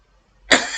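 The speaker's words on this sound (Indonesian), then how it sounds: "Aduh maaf Bapak lalu batuk." A teacher gives a single sharp, close cough that ends a brief quiet moment.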